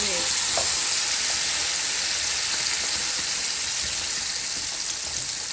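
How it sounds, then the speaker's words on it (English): Blended tomatoes and onions hit hot oil in a pan for corned beef jollof, producing a loud, dense, continuous frying roar that slowly eases slightly. "So now I have my oil in my pan, and I'm going to add my blended tomatoes to"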